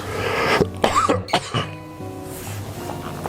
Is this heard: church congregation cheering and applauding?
no